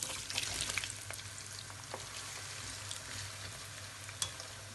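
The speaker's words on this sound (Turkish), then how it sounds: "Kalan patateslerimizi de kızartalım." Steady crackling sizzle of potatoes frying in hot oil, continuous and fairly quiet, with occasional sharper pops.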